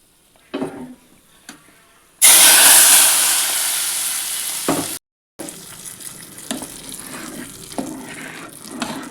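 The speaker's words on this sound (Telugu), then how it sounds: "ఈ పోపుని పప్పులో వేసుకుందాం" A hot tempering of fenugreek powder, turmeric and curry leaves is tipped into temple-style spinach dal, setting off a sudden loud, hissing sizzle that gradually eases over a few seconds after some quieter stirring and clinks.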